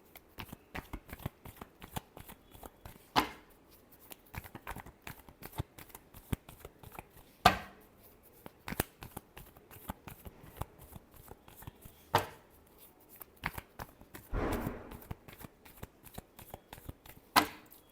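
Tarot cards being shuffled in a quiet room, a steady run of soft riffling flicks broken by a few sharper bridging bursts, close and alone with no talking.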